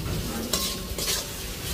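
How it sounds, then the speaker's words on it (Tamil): Onions frying in a pan with salt for a pan kottu, a loud continuous sizzle with two brief surges of brighter crackle as they are stirred. "வெங்காயம் பொரிஞ்சு வரட்டும்."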